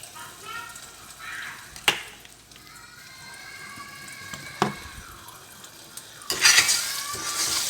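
A utensil whisks beaten eggs with a pinch of rock salt in a bowl, making light clinks and scraping, with a few sharper taps against the rim. A burst of running tap water comes near the end.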